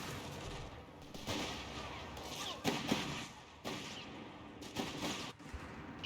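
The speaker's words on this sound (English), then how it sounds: "Machine gun moving up." Gunfire crackles in the World War II strategy game Company of Heroes 3, clustered bursts of shots and heavier thuds rising and falling in loudness with brief quieter gaps.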